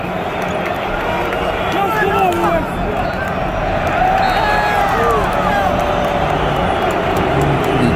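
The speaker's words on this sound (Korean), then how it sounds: "그 관중석에서 함성이 워낙 커가지고 관중석 소리밖에 안 들리네요." A dense, steady roar from the stadium crowd fills the air at the Champions League final between Real Madrid and Liverpool, a constant wall of cheering and chanting with no breaks.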